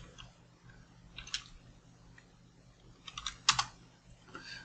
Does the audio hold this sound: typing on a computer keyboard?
yes